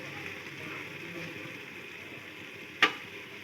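Beef and ash gourd curry with curry leaves, green chillies, ginger and garlic being stirred in a pan, a soft low sizzle with faint scraping and one sharp clink of a utensil near the end.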